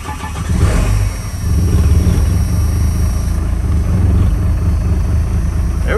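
A Fummins truck engine runs loud and close, catching and settling into a steady rough rumble that swells slightly as it is revved, with no talk over it.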